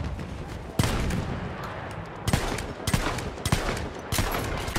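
Battlefield 1 gunfire cracks out loud and close in irregular bursts of sharp shots, with several clustered reports amid the wider battle din.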